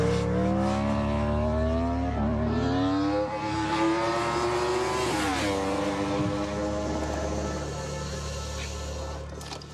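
A Yamaha R1M sport motorcycle engine screams at high revs, pitch rising and shifting through gears as it races past at speed, loud and continuous.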